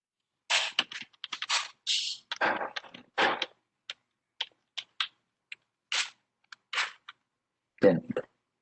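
Irregular bursts of key clicks on a computer keyboard as code is typed, close and fairly quiet, with short pauses between the runs of keystrokes.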